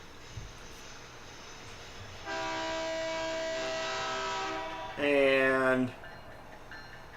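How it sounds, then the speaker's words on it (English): A southbound train rolls through Dubuque, its horn sounding in long steady blasts followed by a louder, brighter burst, over a low rumble. "this is a southbound train"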